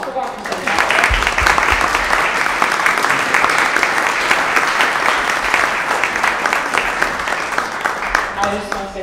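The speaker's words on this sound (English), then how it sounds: "Can we get another round of applause for Dr. Santala?" An audience at a STEAM Cafe talk claps steadily for the speaker, a sustained dense round of applause that thins out near the end as a voice starts to speak.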